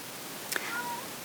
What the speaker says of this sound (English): Oh, kitty, you hungry, huh?